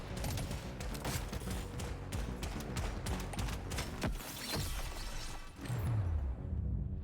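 Automated turrets fire in Deep Rock Survivors, a dense, continuous barrage of rapid gunfire with crackling impacts over game music, swelling into a heavier rumbling burst near the end.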